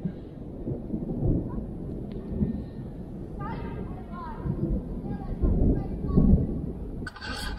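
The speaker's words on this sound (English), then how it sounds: "I can hear the thunder. It's coming for me." Thunder rumbling near Lake Tahoe during a cold outing, low rolling rumbles swelling and fading in several waves, fairly close and heavy, with a bit of background noise and a sharp sound at the end.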